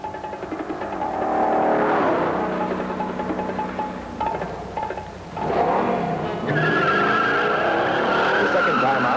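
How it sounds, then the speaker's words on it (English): A 1968 Oldsmobile Hurst Olds launches hard at a test track, its loud engine roaring and rising in pitch while tires squeal, with a brief dip midway before the revving climbs again. "when we blasted it, the car roared out of the hole"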